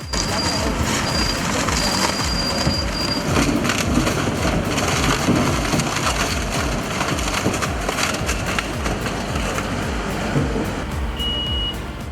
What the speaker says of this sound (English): the Red Giant shredder initiates crushing with a powerful strike